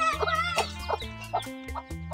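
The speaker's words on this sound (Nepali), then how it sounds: "आज म देखाउन गइरहेको छु कुखुराको चल्ला" Hens cluck close by among their chicks, a run of short throaty calls coming in regular bursts about every third of a second, sounding alone with no talk over them.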